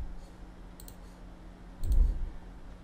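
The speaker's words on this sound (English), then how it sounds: "So just double left click it to extract this zip file." A computer mouse is double left-clicked, producing two quick pairs of faint sharp clicks close to the microphone over a low room hum, with no voices.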